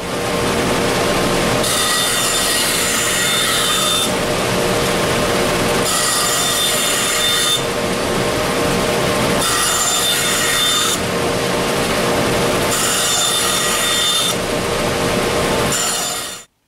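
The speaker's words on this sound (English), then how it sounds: "Let's see how it works with the bandsaw." A bandsaw cuts through wood in repeated passes, a loud steady rasping whine with short gaps between cuts, running continuously throughout.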